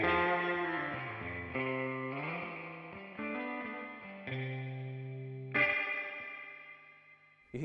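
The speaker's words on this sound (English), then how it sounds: "This is the Electro Harmonix." Electric guitar run through an Electro Harmonix effects pedal, chords and notes swelling with a washy, modulated, echoing tone, played alone at a moderate level with several separate strums.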